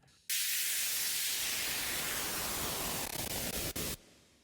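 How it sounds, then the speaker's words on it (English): A harsh burst of lo-fi bit-crushing distortion starts abruptly, sweeps in tone as its parameters are automated, stutters briefly near the end and cuts off. "the effector with lo-fi, which is kind of like a bit crushing distortion"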